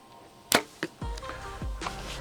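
An arrow shot from a Mathews Phase 4 compound bow lands in a target: a sharp release snap, then a second quieter click and dull thuds of impact on the target, all fairly quiet with no talk.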